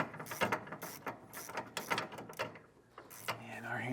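A ratcheting wrench tightens a nut and bolt while installing a Curt Double Lock underbed gooseneck hitch, giving quick, close clicking bursts in short repeated strokes, fairly quiet, with a person speaking faintly near the end.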